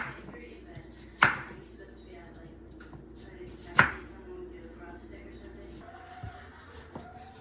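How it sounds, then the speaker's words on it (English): An apple is sliced thinly on a cutting board for pie, with two sharp knife strikes against the board spaced a few seconds apart and a few softer taps, close and quiet between them. "We're gonna cut in thin slices."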